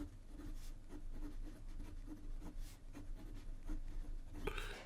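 A Pelikan fountain pen with a medium nib and royal blue cartridge ink writes on Rhodia paper, giving soft, close scratchy strokes in a steady rhythm, a brief louder rustle near the end.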